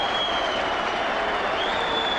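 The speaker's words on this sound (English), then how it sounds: "And that's a terrific applause for Damien Condon" A football crowd at the 1998 WAFL Grand Final between East Fremantle and West Perth applauds warmly, a dense steady wash of clapping from a large stadium audience with no break.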